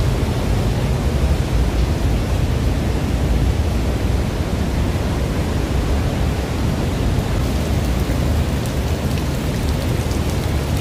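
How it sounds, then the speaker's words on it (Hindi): A huge waterfall near Pokhara, Nepal roars up close, a dense, constant broadband rush of falling water that fills the whole stretch without pause or voices. "यहाँ से आवाज़ से ही आपको अंदाज़ा आ रहा होगा कि बहुत बड़ा है, बहुत ह्यूज वाटरफॉल है"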